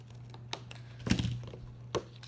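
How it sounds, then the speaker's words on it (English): A few sharp scissor snips cut a paper tab for a book, spaced apart and faint over a steady low hum. "I'm going to cut again."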